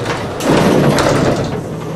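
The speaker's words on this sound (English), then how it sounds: "I'm going to close the door." A Gilbert elevator door in a university building slides shut with a steady mechanical rumble lasting about a second, loud and close, with no talking.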